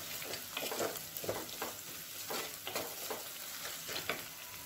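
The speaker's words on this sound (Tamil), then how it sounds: "வெங்காயம் வந்து கொஞ்சம் நல்லா வதங்கட்டும்." Onions with salt sautéing in a pan for quail curry, a constant sizzle broken by rhythmic scraping strokes of a spatula about twice a second, close and fairly quiet, with no voices.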